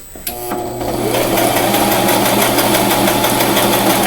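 A sewing machine stitches a pink frock, starting with a click and then running in a loud, fast, steady mechanical whir with a rapid needle rhythm close up.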